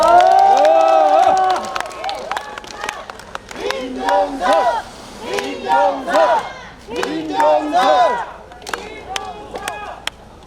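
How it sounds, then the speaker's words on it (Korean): A crowd at an election campaign rally in Hamyang for a candidate, loud rhythmic chanting of a name in unison with cheering and scattered clapping, voices surging in repeated bursts near and loud. "큰 박수로 부탁드리겠습니다"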